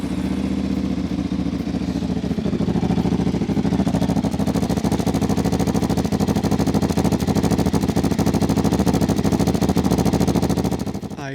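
A Kawasaki KLE500 motorcycle engine runs loud and close, a rapid, even throbbing putter that holds steady throughout with a slight rise in revs partway through.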